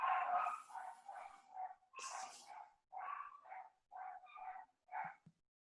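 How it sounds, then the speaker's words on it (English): Several short yelping barks and whines from small dogs come in quick separate bursts nearby, loud at first and then in shorter, evenly spaced yaps. "Can you hear my dogs?"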